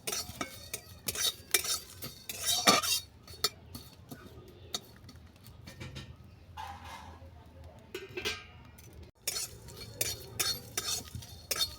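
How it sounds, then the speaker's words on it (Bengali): A utensil stirs and scrapes dry-roasting whole five-spice seeds in a pan for a homemade jujube pickle, giving repeated close clinks and rattles in an irregular rhythm. "দেখো ফোড়নগুলো সব ড্রাই রোস্ট হয়ে গেছে।"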